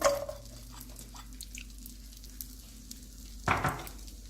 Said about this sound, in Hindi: जब मक्खन अच्छी तरह से गर्म हो जाएगा तो इसमें मैं बादाम,